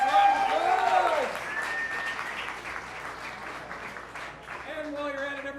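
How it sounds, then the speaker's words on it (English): Audience applause at a standup comedy show in the Milk Parlor, a steady wash of clapping that lasts the whole stretch, with a voice speaking loudly over it at the start and again near the end. "Give him a nice round of applause!"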